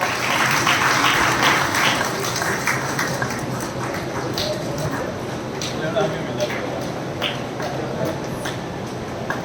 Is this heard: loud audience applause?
yes